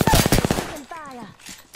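A rapid burst of close, loud automatic gunfire erupts in a shooter video game, then a voice speaks as the shots trail off.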